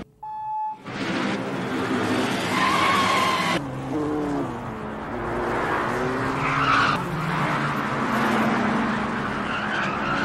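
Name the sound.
race cars skidding during a film race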